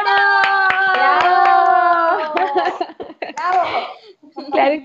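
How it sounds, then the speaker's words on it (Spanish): Scattered hand claps of applause at a live Pentecostal music broadcast, sounding under a loud, sustained voice that calls out over them. "¡Un aplauso para ella!"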